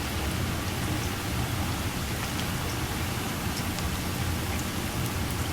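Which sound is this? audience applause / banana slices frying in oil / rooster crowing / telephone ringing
banana slices frying in oil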